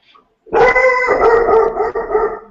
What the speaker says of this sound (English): Wow, a dog.